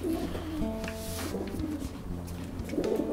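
Soft pigeon coos, a few low rolling calls close by, with a faint background hum.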